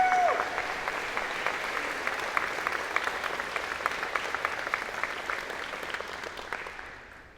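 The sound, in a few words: audience applauding for staff senate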